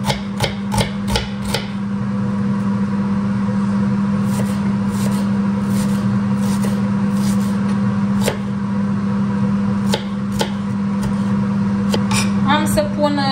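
A kitchen range hood fan runs as a loud, steady hum and whoosh throughout, with sharp clattering knocks of cooking utensils scattered over it and a brief rattling near the end.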